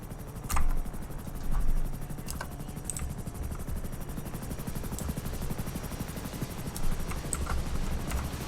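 A helicopter in Batman: Arkham Knight or GTA 5, its rotor chopping in a fast, steady beat at moderate distance, with a few faint knocks and clicks over it and no talk.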